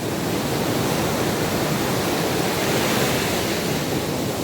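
Large ocean waves pound a beach at a resort in Iba, Zambales, a steady, dense roar of surf close by with no voices over it.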